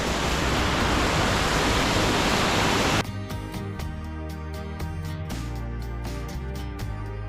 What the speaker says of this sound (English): Now there is the proper waterfall.